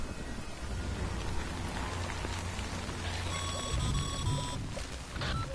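Timefall rain in the video game Death Stranding, a steady dense hiss of falling rain on surfaces throughout, with a faint electronic tone and low rumble joining midway.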